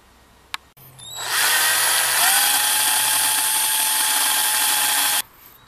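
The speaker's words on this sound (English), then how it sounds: "I'm just going to drill the tip out a little bit" A power drill boring out the tip of a golf club shaft, spinning up after a brief click and holding a steady, loud whine for about four seconds before stopping abruptly.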